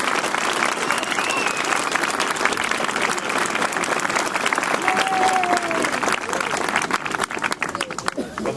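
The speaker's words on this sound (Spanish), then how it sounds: "Un aplauso para él." A crowd claps steadily and enthusiastically, the applause sustained throughout with voices and a few whistles mixed in.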